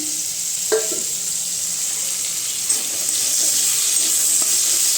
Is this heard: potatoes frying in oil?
yes